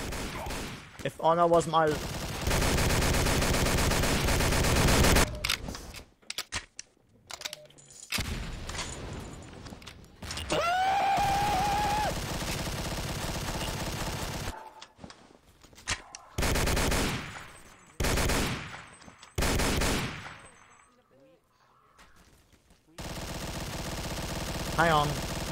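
Bursts of machine gun fire and scattered gunshots crack through a video game battle as a US cavalry division tries to take a town, with sharp loud volleys broken by pauses and voices talking over the fighting.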